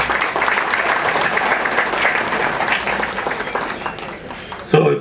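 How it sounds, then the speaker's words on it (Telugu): An audience claps for several seconds at a company ceremony where a couple is being garlanded. The applause is loud, dense and close, then thins out near the end. "దయచేసి అందరూ గట్టిగా చప్పట్లు కొట్టాలి."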